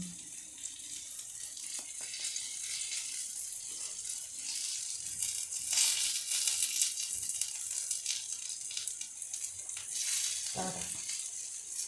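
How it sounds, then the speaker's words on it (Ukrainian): Cottage cheese pancakes (syrniki) frying in a pan after being flipped, a steady broadband sizzle with hissy crackle that swells and fades, close and continuous, with no voice over it. "Перевернули, хай смажеться ще з тої сторони трішки."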